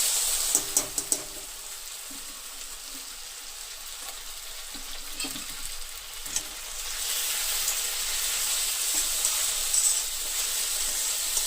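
Continuous sizzling hiss of semolina (vermicelli) frying in a hot oil tempering for upma, with a few sharp crackles and pops early on, steady and close.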